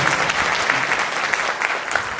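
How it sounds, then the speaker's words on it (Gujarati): A hall full of people at a Gujarati community gathering claps loudly for the organising committee, brisk dense applause sustained throughout with no talk over it. "એમને એકવાર જોરદાર તાળી બતાવો"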